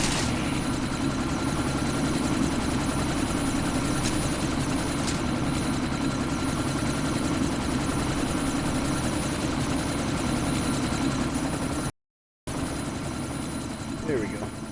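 A helicopter runs in the video game Deus Ex: Mankind Divided, its steady heavy rotor and engine drone filling the scene as it prepares to take off, with voices under it and a brief dropout near the end.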